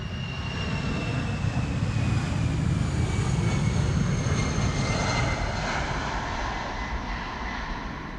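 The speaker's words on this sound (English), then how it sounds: "Another airplane is leaving." A passenger jet departing Amsterdam Schiphol Airport roars steadily and loud, a broad sustained rumble with a faint high whine layered on top, continuous throughout with no voices.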